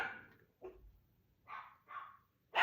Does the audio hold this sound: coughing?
no